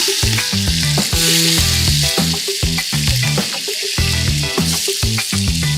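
Onions and mutton bones sauté in a pan for a Pongal festival feast in Theni, a constant frying hiss with stirring that stays under loud rhythmic music.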